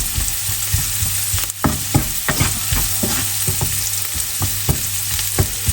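Onions and bacon for a cheddar panini sizzle over low heat in a pan, a steady close frying hiss broken by scattered pops and the occasional scrape of stirring, with no voices.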